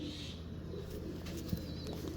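Pigeons settled at dusk give soft, low cooing close by, over a constant murmur of background noise.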